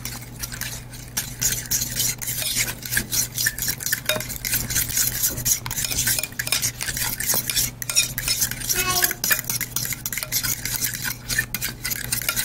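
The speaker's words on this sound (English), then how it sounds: "And we're just going to mix it up." Cream cheese filling for vanilla berry pastries stirred in a bowl with a utensil, a steady scraping and clinking that runs close and continuous with no talk.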